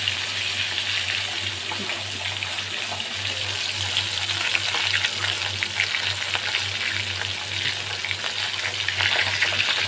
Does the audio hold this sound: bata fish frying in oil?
yes